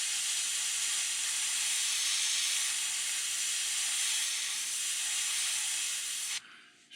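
Close, continuous hiss of an airbrush spraying paint during custom paintwork, holding steady for several seconds before cutting off abruptly near the end, with no talking.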